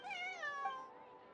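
A cat in the video game Genshin Impact gives a single clear, drawn-out meow, close and alone, its pitch gliding downward as it fades.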